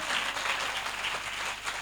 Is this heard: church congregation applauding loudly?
yes